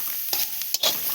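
Garlic fries in a little oil for a Bengali fish curry, giving a brief close sizzle broken by a few sharp stirring scrapes.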